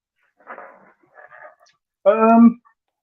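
A dog makes a brief run of bumps and rustles, then lets out one loud, close whimpering yelp.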